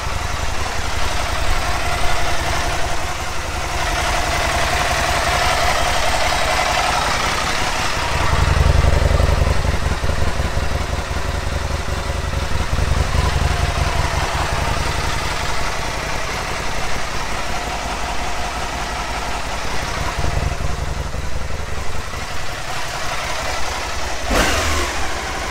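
An Aprilia Caponord 1000 ETV motorcycle engine running close by, a steady loud rumble with some revving swells around the middle and a brief sharp click near the end.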